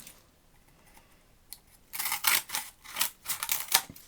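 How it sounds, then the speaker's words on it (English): Scissors cutting through a piece of card for printmaking, a close, dry run of rapid snipping crunches that starts after a quiet moment and goes on in uneven bursts. "So if I cut that piece of card there"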